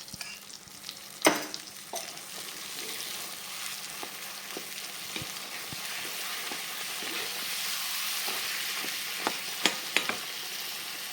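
Mint thokku fries in oil in a pan with a soft, steady sizzle, broken by occasional clinks and scrapes of stirring.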